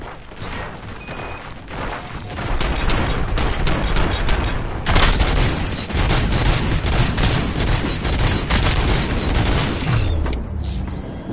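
Sustained gunfire from Robocop: Rogue City, loud and nearly continuous rapid shots with mechanical clatter and occasional crashing impacts filling the whole stretch.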